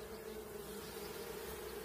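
Honeybees on a hive frame during a hive transfer give a steady, faint, even buzz with no talk.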